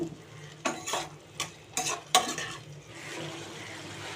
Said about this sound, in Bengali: আর ভালো করে কষিয়ে নেবো